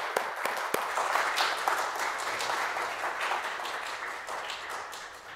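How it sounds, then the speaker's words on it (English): A church congregation gives a hand clap of praise during a combined worship service, sustained applause from many people with a few sharp nearby claps at the start, fairly loud and steady, then slowly easing. "Can we give the Lord a hand clap of praise for it?"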